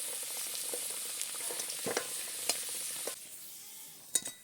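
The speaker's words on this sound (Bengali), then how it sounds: "আলুগুলো খুব ভালো মতো লাল লাল করে ভেজে নেওয়া হয়ে গেছে," Potatoes fry until reddish-brown in hot mustard oil in a kadai, giving a continuous crackling sizzle with repeated scraping stirs and utensil clinks that fades slightly near the end, with no talking.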